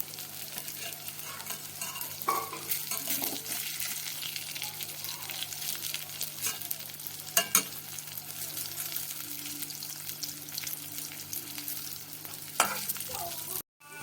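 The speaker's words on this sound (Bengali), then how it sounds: "ধোকাগুলো দু পিঠ করে ভাজা হয়ে গেছে" Fried cakes of red lentil dhoka crackling in oil, a continuous close sizzle with a low steady hum beneath and a few sharp clinks of a utensil near the middle and end.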